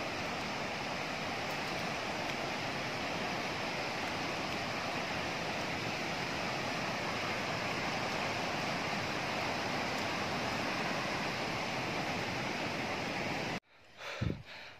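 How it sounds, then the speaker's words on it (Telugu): Gundala waterfall in Telangana, near Dandepelli, after heavy rain: a steady, loud, broadband roar of falling water that runs unbroken for most of the stretch, then cuts out near the end into brief handling noise. "Waterfall sound."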